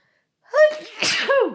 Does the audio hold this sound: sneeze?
yes